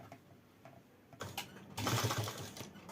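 A sewing machine stitches a collar neck on fabric with paper fusing, starting with faint ticks, then breaking into bursts of close, rattling mechanical stitching that grow louder and more continuous toward the end.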